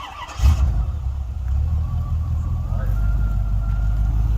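A 1994 Chevrolet C4 Corvette with LT1 engine cold starts with a brief crank, then settles into a steady low idle rumble close by.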